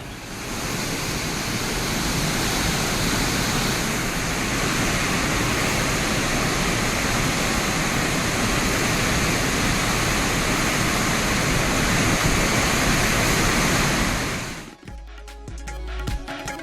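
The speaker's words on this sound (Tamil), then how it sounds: "சேலம் அருகே ஆனைமடுகு நீர்த்தேக்கத்தின் மதகு திடீரென திறந்து வெளியேறிய தண்ணீர்" Water gushes from the opened sluice gate of the Anaimaduvu reservoir near Salem, a loud, steady roaring rush lasting most of the clip before cutting off abruptly near the end.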